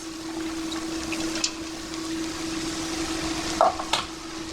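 Corn mince added to softened vegetables for spaghetti bolognese, frying in a pan with a steady close sizzle and occasional scrapes of stirring, with no talking.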